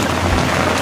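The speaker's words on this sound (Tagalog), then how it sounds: "Grabe talaga ang ulan, no?" Steady, dense hiss of heavy rain falling on a surface in Ormoc, Philippines, loud and continuous with no voices, filling the whole short moment.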